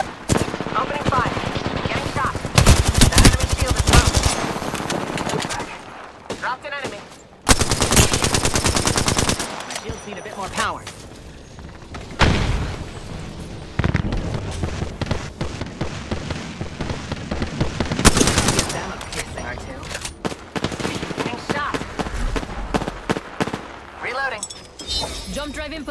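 Rapid video game weapon fire in a sci-fi shooter, with dense bursts of automatic shots and blasts throughout, layered with game effects and a voice talking over the action.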